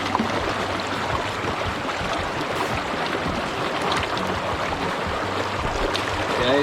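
Water and gravel slosh and swirl in a gold pan being shaken, a continuous close, wet rushing with light gritty rattling and no talk.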